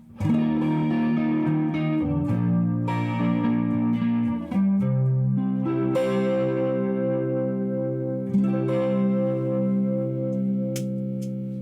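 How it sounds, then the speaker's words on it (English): Electric guitar, a Sire T3 on the neck pickup, rings out clean chords through a shimmering, warbling analog chorus effect, sustained and steady with a few strummed changes. "If we turn off the distortion and turn on an analog chorus"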